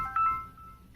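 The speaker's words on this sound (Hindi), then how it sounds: "आप देख सकते हैं मेरे मोबाइल पर फ़ोन आ गया" A mobile phone sounds an incoming-call ringtone, a short tonal electronic melody lasting about a second and fading into quiet, with no one speaking.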